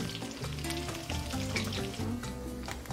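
Beef and potato flautas sizzle and crackle steadily in hot oil after being flipped in the pan, a dense, continuous frying hiss at close range with faint tonal music underneath.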